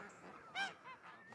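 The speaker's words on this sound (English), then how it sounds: "Geese were farmed." A faint goose honk rings out once, followed by softer calls, distant and quiet against low background noise.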